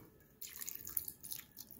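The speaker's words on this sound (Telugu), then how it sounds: "అవి మునిగే వరకు వాటర్ పోసుకుందాము" Water pours into a bowl of almonds, a soft close splashing trickle that starts suddenly and runs for under two seconds, quiet overall.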